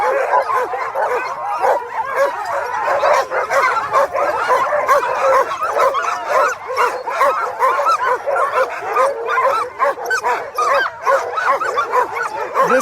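A crowd of eager sled dogs at the mass start of a sled dog race barks, yips and whines nonstop, loud and near, in a dense overlapping chorus.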